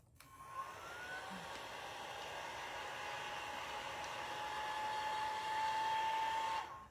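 A heat tool blows hot air to dry paint on a craft project, a continuous close whooshing roar held steady for about seven seconds and swelling slightly near the end, with no voices.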